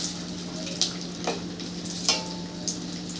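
Grated coconut roasts in a pan with a steady soft sizzle, broken by a few light scrapes and taps of a stirring spoon, close and alone.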